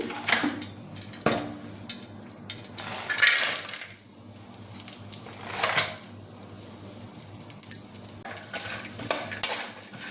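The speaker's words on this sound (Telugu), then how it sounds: "అదే బాండిల్లో కొంచెం నెయ్యి వేసి కొబ్బరి ముక్కలు వేయిద్దాము" Coconut pieces frying in ghee in a pan, with clattering metal scrapes and knocks of a spatula over a light sizzle, loud and close, easing off midway before more stirring resumes.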